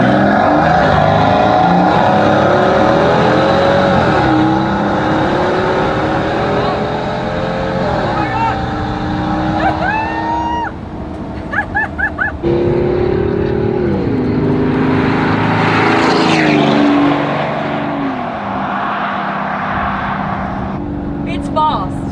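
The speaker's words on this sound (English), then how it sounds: "It's not the fastest car, it's fast, but what you really feel is the sound from the engine." Maybach Exelero V12 engine accelerating hard from inside the cabin, a loud, continuous roar whose pitch climbs in steps through gear changes, with a brief dip and sputter midway before surging again.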